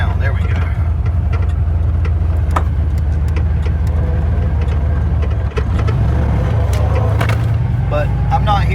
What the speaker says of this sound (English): it's got a hanging throttle, as you can see. It'll eventually idle down.